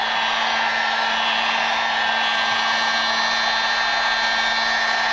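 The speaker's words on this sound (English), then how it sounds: "Now we're gonna work on drying the seats." A dryer blows hot air onto wet truck seats during interior detailing, a loud, steady, close whirring roar with a constant hum that runs unbroken the whole time and has no talk over it.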